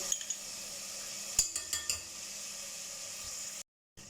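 Masala roasts for beef biryani with a steady hiss, while a spoon clinks sharply against the pot several times. Then the sound cuts abruptly to silence near the end.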